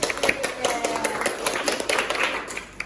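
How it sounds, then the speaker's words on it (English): A small class claps in a loose, uneven patter of individual hand claps, fairly close and moderate in volume, with a bit of speech underneath. "Okay, give applause."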